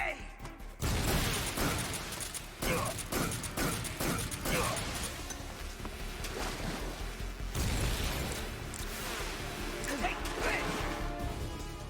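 In Metal Gear Solid 3, a grenade goes off during a boss fight: heavy explosive bursts and crashing impacts with mechanical clatter, loud and dense, under someone talking.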